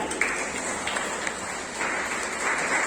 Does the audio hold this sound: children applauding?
yes